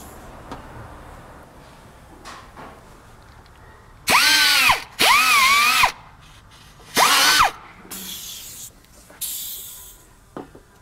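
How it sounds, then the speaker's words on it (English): A power drill fitted with an abrasive disc strips old gasket material from an engine's water pump mounting area in several loud, whining bursts of a few seconds each, with rising and falling pitch and short pauses between. "I'm going to go ahead and clean all the gasket off around the area here"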